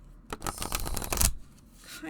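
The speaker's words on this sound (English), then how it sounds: "If you've worked with the cards in the past, you know how the shuffling is" Oracle cards from a witch-themed deck being shuffled by hand, a close, busy burst of riffling and sliding card noise lasting about a second, then quieting.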